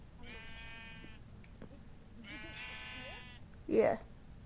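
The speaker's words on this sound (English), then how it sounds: "Hey, come look at the sheep." Two drawn-out sheep bleats from Minecraft, each about a second long, with a brief louder burst of noise near the end and a quiet background.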